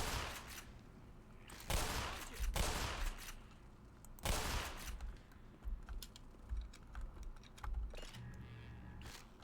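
Distant gunfire from a firefight in the game Black Mesa, heard as scattered bursts of shots and crackling pops spread through the clip, fairly faint with quiet gaps between volleys.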